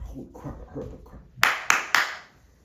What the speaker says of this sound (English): We'll clap again.